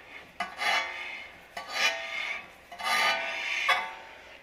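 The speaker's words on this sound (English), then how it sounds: "Spin this to see if it's free." Car wheel hub on a 10th-generation Honda Accord, spun by hand after a big brake kit is fitted, gives four close rasping scrapes of rotor rubbing pads, each swelling and fading in a steady repeating rhythm with no talking.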